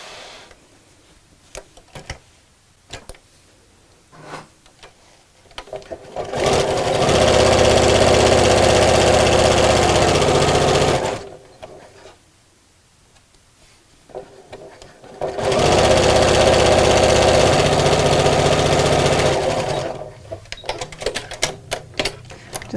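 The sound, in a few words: sewing machine sewing around two fabric pieces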